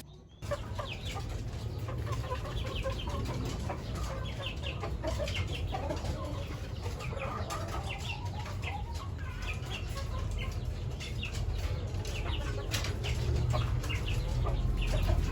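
Several chickens cluck and chatter continuously on a farm over a low rumbling background, with occasional sharper calls throughout.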